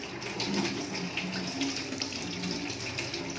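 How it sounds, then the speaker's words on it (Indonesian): Water runs steadily from a tap into a sink as hands are about to be washed, a continuous close splashing hiss with no pauses. "Selanjutnya, nyalakan keran."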